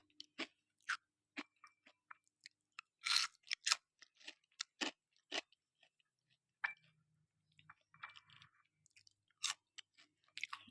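Someone bites into crispy homemade fried potato fries and chews. Loud, close crunches come in irregular bursts with quiet gaps between them, and no one speaks.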